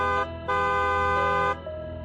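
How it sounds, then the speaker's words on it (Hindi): A car horn honks on a road in two loud, sustained blasts, with a brief gap between them and a lower hum continuing underneath. "काफी हॉर्न भी बजाया"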